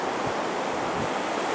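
Gulf of Mexico surf breaking on a beach, a steady broad wash of waves with faint wind noise, no voices.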